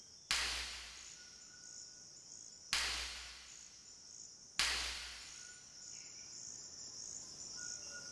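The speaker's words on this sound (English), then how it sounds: "These exploding nuts are from rubber trees, one of Amazonia's most famous." Three sharp cracking pops of rubber tree seed pods bursting open in the Amazon ring out at intervals, each fading quickly, over a constant background of insect chirring.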